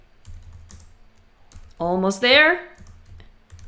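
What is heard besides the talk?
typing on a computer keyboard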